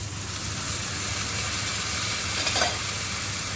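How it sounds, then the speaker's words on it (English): Vegetables such as celery, leek, blanched carrots, peppers and courgettes frying in a pan, giving a steady, close sizzle with a brief burst of hiss as they are tossed. "Now what we want to do is get all of that veg tossed around inside and that."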